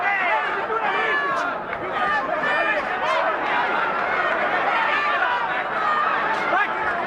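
A boxing crowd at the Floyd Mayweather vs José Luis Castillo fight roars after a punch, a dense, loud and sustained wall of cheering and babble with voices running through it.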